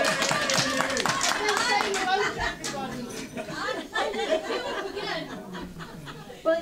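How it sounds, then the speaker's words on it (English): Church congregation applauding during a Sunday service, scattered clapping fading into chatter and light laughter, with voices talking under and after the claps. "Round of applause for Mary."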